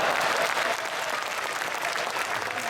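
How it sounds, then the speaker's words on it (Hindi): Audience at a Rajasthani comedy poetry recital breaks into loud, sustained applause, dense continuous clapping filling the hall with no pause for the whole stretch. "और ताली इस बात पर बजाओगे"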